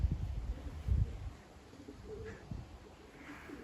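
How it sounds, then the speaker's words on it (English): Young racing pigeons at a loft make soft low cooing and rustling, loudest in the first second, followed by a few faint higher chirps against quiet background hiss. "There are the young birds."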